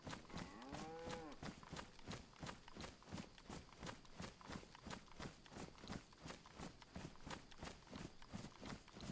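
A cow in a zombie survival video game moos with drawn-out lowing calls, accompanied by a steady series of rhythmic hoof-like footsteps or thuds throughout, moderately loud and close, with no speech.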